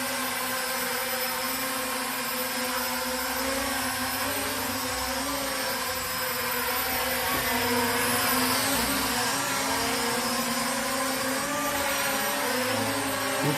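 A Syma X9 flying car drone hovers low near the ground, its small rotors producing a steady whining buzz with wavering pitch as it shifts and settles, close and continuous, with no voices.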